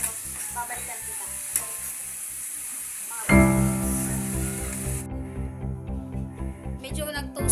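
Pork and fern stir-fried in a pan sizzle loudly. Faint scraping of stirring comes first, then a sudden burst of frying grows louder and stays steady near the mic.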